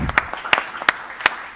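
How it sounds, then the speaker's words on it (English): A few distinct hand claps from a conference audience ring out at a steady pace, sharp and close, with a faint murmur of background noise between them. "Join me in giving a final round of applause unto yourselves."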